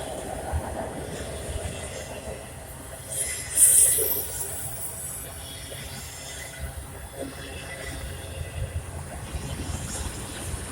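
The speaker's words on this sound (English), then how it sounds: "Now it just became like a very short auto rack train." A short auto rack freight train rumbles past at a steady moderate level, with a brief bright squeal of wheels partway through and a faint rhythmic clatter beneath.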